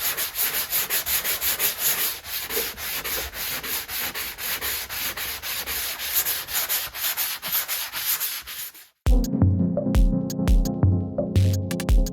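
Up close, a tool rasps steadily against a model railroad layout in the town area, making continuous rhythmic scraping strokes for about nine seconds. Louder, brighter scraping follows after a short break.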